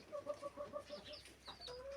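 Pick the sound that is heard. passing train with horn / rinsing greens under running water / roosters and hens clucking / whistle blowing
roosters and hens clucking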